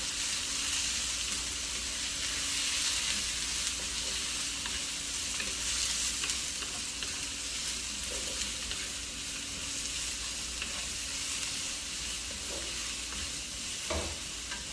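Cut cabbage stir-frying in a wok with garlic and ginger for veggie Szechuan fried rice, giving a steady, close, loud sizzle with scraping and stirring throughout and no talking.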